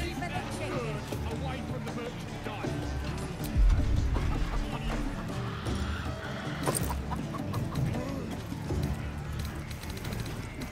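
Chickens cluck repeatedly in the video game Baldur's Gate 3, with busy ambient noise around them and people talking over the clucks.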